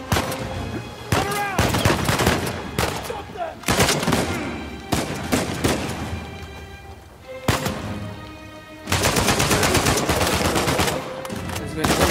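Sustained gunfire in Uncharted 4: A Thief's End, with repeated bursts of rapid shots and single cracks over several seconds, loud and close, and a voice heard at times amid the shooting.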